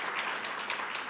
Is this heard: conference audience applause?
yes